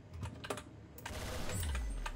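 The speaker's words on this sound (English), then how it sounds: "you have to use a little bit of power to press the keys" Clicky keystrokes on a gaming keyboard tap out in an irregular cluster of close, crisp presses, with a low hum beneath.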